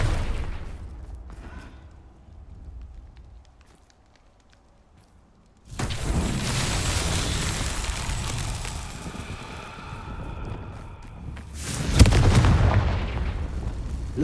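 Confringo fire spell explosions from the video game Hogwarts Legacy erupt as loud booming blasts with crackling rumble, followed by another heavy burst after a brief quiet stretch.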